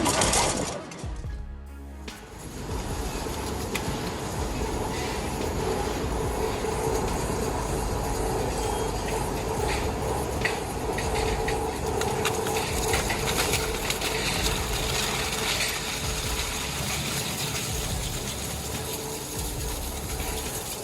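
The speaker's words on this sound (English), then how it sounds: "Crushing steel like it's cardboard, this shredder shows how modern control meets raw industrial power." An industrial shredder crushes steel scrap with a loud, continuous grinding and clanking roar that runs almost the whole time, apart from a brief dip near the start.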